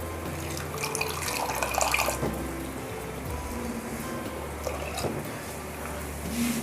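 Water is poured from a blender jar into a pan on a stove while cooking kaju makhana curry, a steady close splashing trickle with a few small bumps, no voices.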